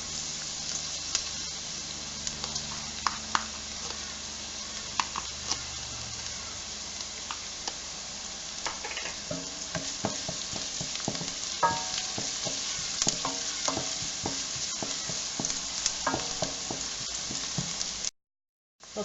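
Garlic sizzles steadily in a pot for lentil soup with smoked ham hock, with a spoon stirring and scraping through it in scattered clicks and knocks, close and fairly loud, no talking.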